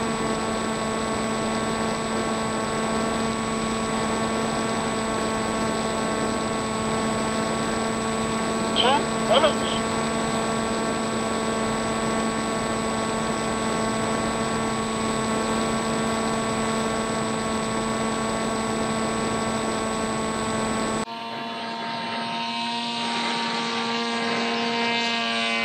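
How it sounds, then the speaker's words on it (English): An FX-61 Phantom RC plane in flight, with an upgraded motor and 11-inch propeller, giving a steady, loud electric whine that holds an even pitch throughout before the sound shifts near the end. "And she cruises along really nicely, this plane."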